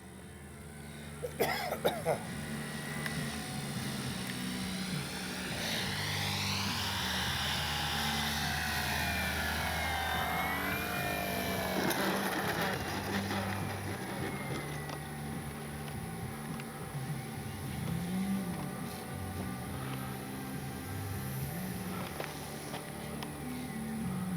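An Avios Extra NG radio-controlled aerobatic plane whines through passes and comes in to land on a runway, its motor pitch sweeping up and down at a moderate distance, with a cough and throat clearing nearby.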